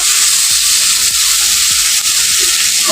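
Mukhi kochu (taro) curry with tomato and soaked nuts sizzles steadily in a pan, with repeated scraping stirs roughly every half second over a constant loud frying hiss, no talking.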